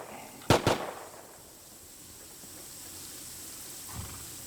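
Gunshots around a base in the video game Rust, two sharp loud cracks in quick succession followed by a quiet ambient stretch and a faint distant thump near the end.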